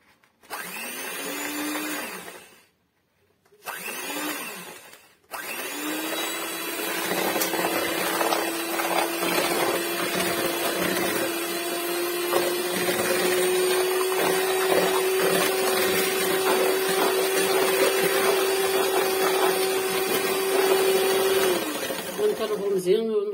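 An electric hand mixer beats egg yolks with sugar, whirring in a couple of short starts, then running steadily as its pitch slowly rises, with a voice speaking over it.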